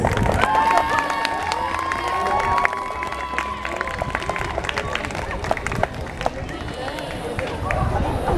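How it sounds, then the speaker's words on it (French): A crowd at a cosplay contest claps and cheers for a Vampire Knight duo, dense noisy applause with shouting voices and background music throughout, fairly close and continuous. "On applaudit le duo Vampire Knight."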